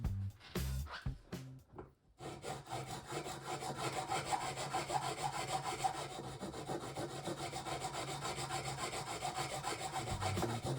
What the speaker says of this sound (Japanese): いつもアクリル用で使っているダイヤモンドヤスリから